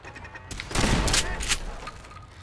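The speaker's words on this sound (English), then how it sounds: "Oh, this shotgun's a beast." Shotgun blasts in Fallout 4: a heavy roaring burst of gunfire swelling up after a brief lull, with a second crack close behind, then fading out.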